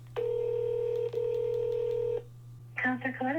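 Touch-tone telephone keypad tones ring out loud and clear while a call is placed to a city councilor's office: two long steady beeps, then a short burst of quick higher tones, over a constant low hum on the line.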